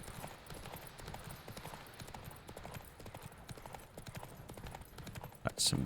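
Rapid rhythmic clip-clop of horse hooves at a gallop in The Witcher 3: Wild Hunt, steady throughout, ending with a brief sharp whinny-like burst as the horse rears on its back legs, under faint talking.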